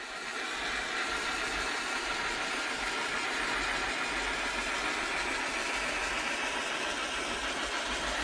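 A propane or MAP gas torch burns the fuzz off handmade craft trees over a dust collection table, giving a steady, continuous broadband roar that holds even and close for the whole stretch with no talking.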